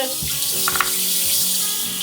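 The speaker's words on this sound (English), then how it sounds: "just gently run some water over it to get off any excess dust." Tap water runs steadily onto a dusty refrigerator grate in a sink, a close, loud splashing hiss with shifting tones as the stream hits the metal.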